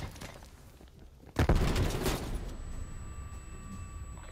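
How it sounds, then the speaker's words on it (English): A frag grenade goes off in a close-quarters video game gunfight as a loud, broad blast that rises abruptly and fades over about two seconds, following lighter rattling gunfire. "Sending frag grenade."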